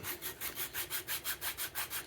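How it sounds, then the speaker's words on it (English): A wooden purpleheart knife handle being sanded by hand in regular back-and-forth strokes, about five per second, steady and close. "Just Gonna keep sanding this out, smoothing it out"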